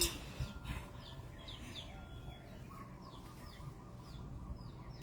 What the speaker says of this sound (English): They're chickens. They can't be cooped up in a little box.